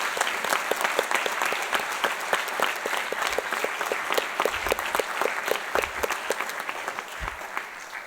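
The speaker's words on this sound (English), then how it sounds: "I would like to do 2 more rounds of applause" Sustained audience applause in an auditorium at a Duke Engineering master's hooding ceremony, honoring graduates' families; steady dense clapping fills the whole stretch at even loudness with no talk over it.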